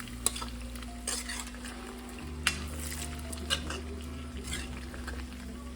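Pork meat frying in a pan while being stirred, a steady close sizzle broken by occasional sharp utensil scrapes and taps against the pan, over a constant low hum.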